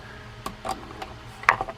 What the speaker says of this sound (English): I use a ratchet because of the lip.